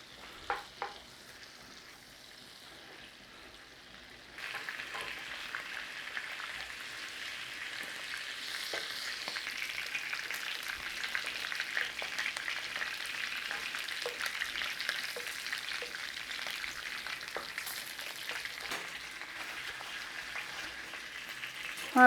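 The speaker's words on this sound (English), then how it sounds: "we are going to fry some colour on our sausages" Sausages frying in butter and a touch of oil in a pan, a quiet pop or two, then a steady crackling sizzle that holds for the rest of the clip without talk.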